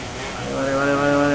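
A racing motorcycle in the video game MotoGP 17 accelerates, its engine pitch rising sharply over a brief burst.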